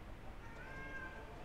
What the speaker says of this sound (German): Miau, miau, Alter, meine doofe Katze.